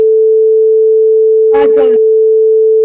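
A steady, pure electronic 440 Hz test tone from an app hums loudly and unbroken throughout, briefly overlaid by a short burst of speech midway.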